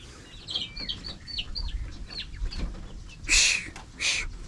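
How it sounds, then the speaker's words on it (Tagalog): Chickens scuffle and squabble over feed on a farm where ducks also roam, giving a string of chirpy clucks and squawks at moderate distance, with a louder burst of flapping or scratching near the end. "Inaagawan nilang pagkain yung mga ano, manok."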